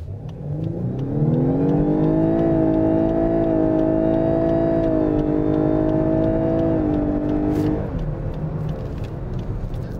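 A 2021 Lexus LS 500h hybrid sedan with a lithium-ion battery accelerates hard, its engine rising in a loud, sustained drone with steadily climbing tones for several seconds, then easing off abruptly.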